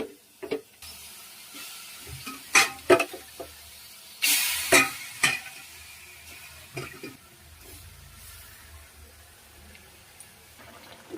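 Spices with Bombay duck (loitta) fish frying in a pan, giving a low steady sizzle broken by sharp clinks and scrapes of stirring, with no one talking.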